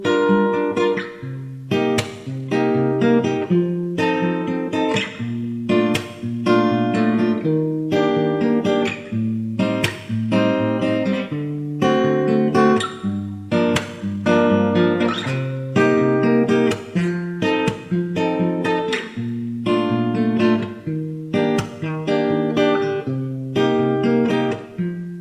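Acoustic guitar strummed through a repeating jazz progression of major, minor and dominant seventh chords, including a flat-nine voicing, with steady rhythmic strokes, close and clear throughout with no talking.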